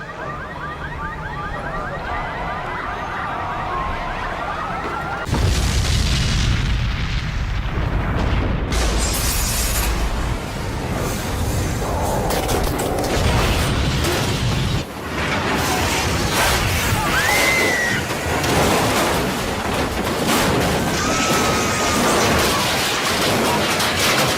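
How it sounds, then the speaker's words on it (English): A jet airliner, American Airlines Flight 11, slams into the north side of World Trade Center tower 1 in New York, a loud sudden booming impact followed by a sustained roaring rumble and chaotic crashing noise with alarms. "American Airlines Flight 11 smashes into the north side of World Trade Center No. 1."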